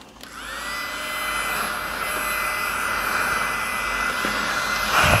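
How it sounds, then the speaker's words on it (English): A small portable handheld fan runs with a steady, whining whir that rises slightly as it spins up, holding a constant airy hum close by with no talking. "Is this a fan?"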